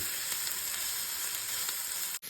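Onions frying in a pan for a prawn tomato curry, a steady close sizzle with a sharp clack just before a brief drop near the end.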